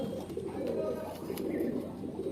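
A low-flyer tournament pigeon coos softly while being handled in a loft, a quiet, continuous throaty murmur close to the ear with faint background noise.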